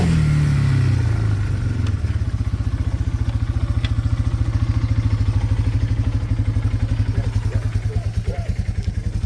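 A Bear Tracker four-wheeler engine, just fixed after a carburetor problem, revs up and then chugs in a steady, rapid, throbbing rhythm, loud and close throughout with no one talking over it.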